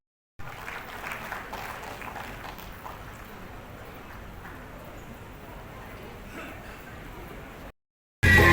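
A crowd claps steadily to welcome guests at a ceremony, a continuous moderate roar of applause that cuts off abruptly near the end.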